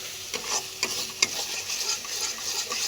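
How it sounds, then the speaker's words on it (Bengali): Spices with chana masala and Kashmiri chilli powder are sautéed in a pan, a soft steady sizzle broken by repeated spatula scrapes and a sharp clink, close and without talk. "এবারে কষাবো আমরা এইভাবে কষাতে থাকবো ভালো করে"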